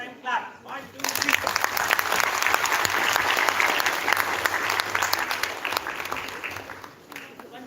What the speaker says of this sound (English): One more time, clap.